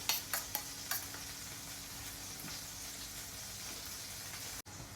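A small bell pepper goes into a pan with tomatoes, bringing a few sharp clattering knocks at first, then a steady, fairly quiet sizzle and frying hiss that continues without talk.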